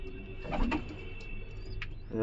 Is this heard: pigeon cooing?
yes